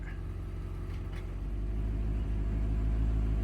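A 1984 C4 Corvette idles with a low, steady engine rumble as it is parked, the tone swelling a little louder toward the end, with no one speaking.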